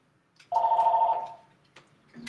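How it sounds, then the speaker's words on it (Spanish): A mobile phone rings with a single steady electronic tone lasting about a second, fairly clear in a quiet room, followed by faint clicks and the start of another sound. "está sonando mi teléfono"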